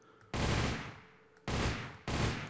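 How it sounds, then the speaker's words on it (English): Minigun in a video game gun mod fires three bursts of rapid, loud, buzzing automatic fire, the first lasting nearly a second, the others shorter, separated by brief pauses. "This is the minigun. You just right click to fire."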